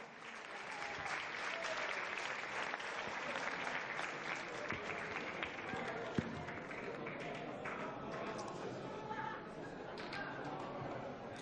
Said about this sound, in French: Encore tous vos applaudissements.